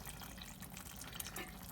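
Water poured into a pot of beans and rice during home cooking, a steady low splashing and trickling wash that runs the full length, moderately close and fairly quiet.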